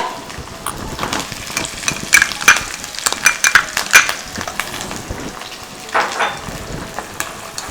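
Green chili and curry leaves fry in hot oil in a pan for a lemon and date pickle, giving a steady close sizzle with crackling pops and a few stirring scrapes, no voices.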